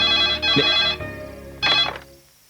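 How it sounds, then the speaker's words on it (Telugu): A telephone bell rings in two loud bursts separated by a short pause, with no voices present. "ఏ విమలా, ఎవరైనా ఫోన్ చేశారా?"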